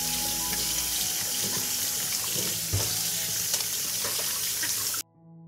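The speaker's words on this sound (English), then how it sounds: "First, I'll wash the tomatoes." Fresh tomatoes washed under a running kitchen tap, with a steady, loud, close stream of water splashing over them and into the sink for several seconds before cutting off abruptly.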